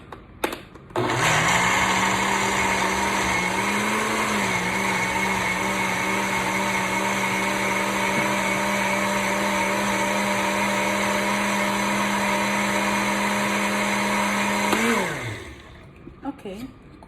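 Blender whirring through canned corn kernels, a loud steady motor drone running about fourteen seconds after a brief start, then winding down to a stop with small clatters.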